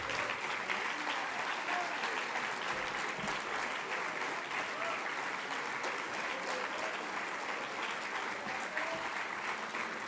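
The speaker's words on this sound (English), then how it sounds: "Please keep the round of applause till the time our dignitaries take their seats." Seated audience at a university special convocation keeps up a long, steady round of applause, moderately distant and uniform, with faint murmurs beneath the clapping.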